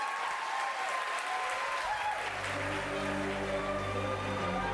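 A steady wash of audience applause from a large crowd that starts abruptly and holds at a constant level, with a faint tonal sound emerging in the background partway through.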